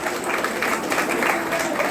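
An audience at a college student union closing ceremony claps for an honoured student, a dense, steady patter of applause that carries on evenly throughout.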